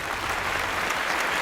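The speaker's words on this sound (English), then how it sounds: "My favorite part about the applause sample is that you can tell when it loops." Canned applause from a sample triggered by a button: dense, steady clapping and cheering from a large crowd, loud and continuous with no voices on top.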